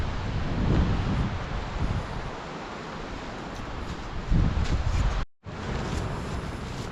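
Steady wind gusts buffet the microphone at a mountain campsite after a lightning storm, a constant rushing roar that swells and eases, with a brief dropout near the end.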